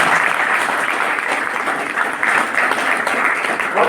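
An audience applauds at a university registrar's talk, a dense, steady wash of clapping from many hands that holds at full strength and stays close, with no break or speech over it.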